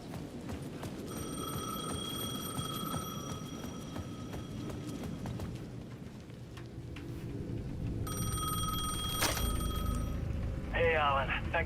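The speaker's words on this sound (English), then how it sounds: "The payphone at the edge of the plaza was ringing again." A payphone at the edge of a plaza in the video game Alan Wake 2 rings in two bright electronic bursts, separated by a pause, over a low, rumbling ambient background.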